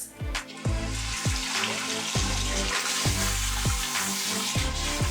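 Water streams steadily over the scalp and hair during an upside-down rinse, making a continuous close hiss with rhythmic pulsing low knocks underneath.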